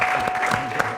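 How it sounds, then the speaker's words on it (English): An audience claps in a burst of applause at a panel discussion at a CMU India conclave in Bangalore, loud, dense and close, lasting about a second. "can I just have a round of applause for both me and for Conclave?"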